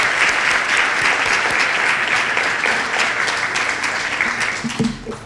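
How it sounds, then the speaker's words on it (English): Sustained audience applause at a Women's Day event in Columbus, Ohio: dense, steady clapping from a large crowd filling the whole stretch, tapering slightly near the end, with no one speaking over it. "can we do one more round of applause for Kenneth?"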